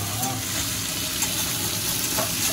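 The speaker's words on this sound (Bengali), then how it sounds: "একটুখানি ফ্রাই হলেই ব্যাস হাই ফ্লেমে হবে।" Food sizzles and fries steadily over a high flame in a home kitchen. The crackle is dense and continuous, close to the pan, and there are faint stirring sounds.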